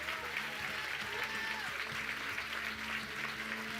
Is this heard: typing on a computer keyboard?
no